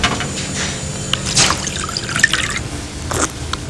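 Volvic mineral water dripping and trickling from the tap of a water fountain, a few light close drips and splashes over a steady low background hum.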